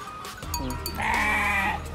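A single drawn-out goat bleat rings out clearly and close at a nature sanctuary in Tagaytay, preceded by brief background chatter.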